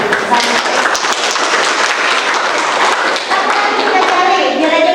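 Rapid hand clapping from a classroom group playing a counting clapping game, dense and steady throughout, with children's voices mixed in.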